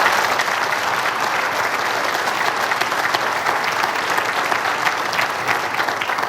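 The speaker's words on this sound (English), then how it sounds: "can we get a big round of applause for our Westland Senior Olympians?" A room full of people at a city's annual State of the City event applauds the Westland Senior Olympians, steady dense clapping that holds loud and even throughout with no speech over it.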